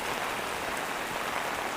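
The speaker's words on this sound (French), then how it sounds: "j'ai l'impression qu'il prend quand même un peu la pluie" Steady rain falling outdoors and pattering on recording equipment, a dense continuous hiss of drops with no voices.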